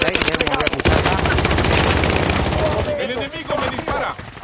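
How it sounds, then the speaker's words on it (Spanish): Rapid enemy gunfire in a video game shooter, loud bursts of automatic fire rattling close by with overlapping shots, easing off near the end as faint speech comes in. "El enemigo me dispara."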